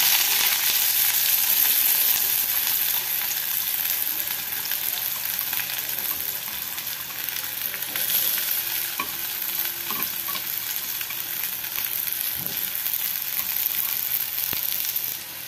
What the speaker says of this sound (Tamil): ஸோ இது பொரியட்டும், கடுகு பொரியட்டும்.